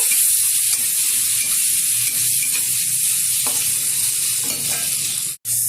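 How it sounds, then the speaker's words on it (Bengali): Shrimp with turmeric fry lightly in a pan with a steady, close sizzle that holds evenly throughout, with a brief stir or scrape near the end. "দিয়ে দেবো বেছে রাখা চিংড়ি মাছ, হালকাভাবে ভেজে নেব"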